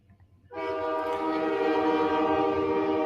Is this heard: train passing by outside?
yes